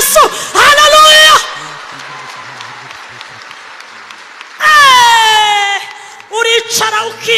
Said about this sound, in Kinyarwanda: amashyi menshi kwa Yesu haleluya